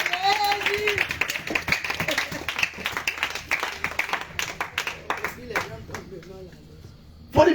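A congregation at an evening worship service in Grand-Bassam claps in a steady, brisk rhythm, with voices and talk running over the applause throughout.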